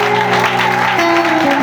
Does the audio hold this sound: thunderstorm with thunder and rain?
no